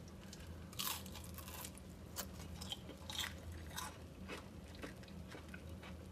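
Several crisp crunching bites into a fried Korean potato pancake, with chewing between them, close up and fairly quiet, no talking.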